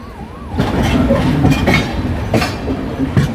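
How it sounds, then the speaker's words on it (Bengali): The Howrah-Puri Superfast Express rolls into Khurda Road junction, a loud steady rumble of wheels and carriage noise heard from inside the train, with occasional clanks over the rails. "আমাদের ট্রেন ঢুকছে খুর্দা রোড জাংশনে।"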